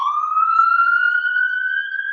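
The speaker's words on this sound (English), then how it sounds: "Oh no, that's ambulance." A siren from a fire rescue emergency vehicle sounds steadily, its tone rising slowly and continuously, loud and close with no voices over it.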